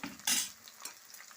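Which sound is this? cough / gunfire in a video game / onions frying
onions frying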